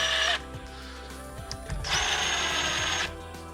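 A power drill whirs in short bursts, running down camshaft endcap bolts on a Subaru 2.5 engine during a head gasket job, close up in a workshop.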